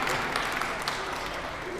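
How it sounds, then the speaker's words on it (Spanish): A church congregation clapping together during a Christmas homily, a short, busy patter of many hands with slightly uneven bursts and no voices on top. "Un aplauso, ¿verdad?"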